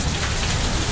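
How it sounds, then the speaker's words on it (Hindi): Heavy monsoon rain pours down in a dense, loud, continuous hiss of drops hitting surfaces, with no voices. "लगातार बारिश चल रही है, तेज़ तेज़ बारिश हो रही है"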